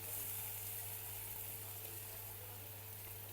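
Masala paste hitting a hot pan and sizzling, a steady, even hiss that holds at a low, constant level throughout with no voices.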